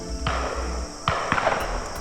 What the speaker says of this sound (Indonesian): mereka mendengar suara tembakan yang asalnya tidak jauh dari posisi mereka sekarang